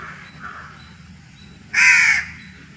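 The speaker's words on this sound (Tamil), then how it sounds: "ஹாய் காக்கா ஹாய் சொல்" A crow gives one loud, harsh caw close by near a temple, after a stretch of soft, low background ambience.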